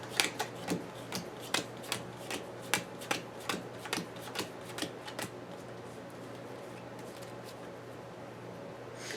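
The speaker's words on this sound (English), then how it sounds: "Let me just shuffle this." A deck of Marvel Champions cards is shuffled in a run of crisp, rapid riffling snaps over the first five seconds, close and clear, before fading into quiet room tone.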